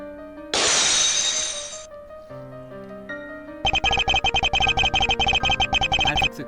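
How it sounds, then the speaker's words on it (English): A game sound effect of a car crash on a highway: a loud burst of shattering glass, a short pause with quiet tones, then a fast, rhythmic series of bright metallic clinks that runs for a few seconds. "I took the car, drove it to the highway, and crashed it."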